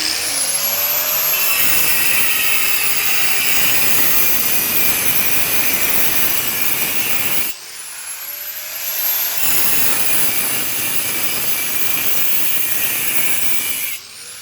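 Power cutter slicing through floor tile to open joints for grouting and epoxy, a loud continuous high-pitched whine and grind held for about seven seconds, briefly dropping, then resuming at full level.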